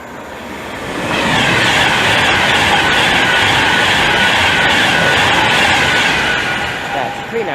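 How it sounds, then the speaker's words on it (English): A Pendolino class 390 electric train passes through Hemel Hempstead station on the West Coast Main Line, its loud, steady roar and rattle swelling in close and holding for several seconds before starting to fade. "And now passing through the Pendolino."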